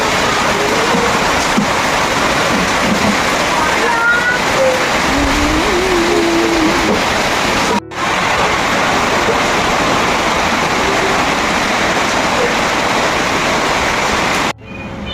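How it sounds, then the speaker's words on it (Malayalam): Steady, loud broadband roar of heavy monsoon rain pouring continuously in Kerala, with a brief dropout partway through and another near the end. "പുറത്ത് നല്ല അസല് മഴയാ"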